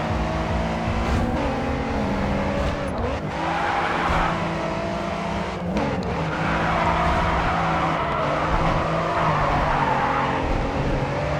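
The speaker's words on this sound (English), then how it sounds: "See, that was a pretty good drift right there." A car drifting in the racing video game Grid 2, engine droning continuously while tires squeal and skid through the slide, loud and close, with no talking.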